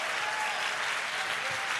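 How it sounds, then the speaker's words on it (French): A church congregation claps for Jesus Christ in dense, steady applause that holds evenly from start to finish. "Let's clap for Jesus Christ."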